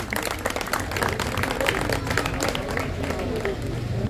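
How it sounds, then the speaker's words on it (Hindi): Audience applause at a pigeon flying tournament prize distribution in Raebareli, a dense, steady patter of clapping from a crowd lasting throughout, with some voices mixed in. "आपसे गुजारिश करेंगे कि तालियां बजती रहें।"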